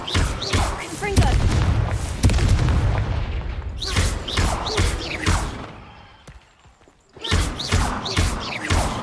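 The Confringo fire spell in Hogwarts Legacy sets off a series of heavy, booming explosions and thuds, loud and close, with a brief quieter gap before more blasts, while a voice talks over the action.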